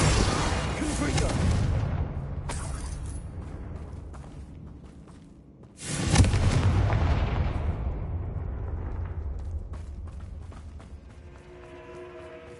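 The Confringo fire-blast spell from Hogwarts Legacy goes off twice as heavy booming blasts, the second near six seconds, each followed by a long rumbling decay with spoken incantations layered in.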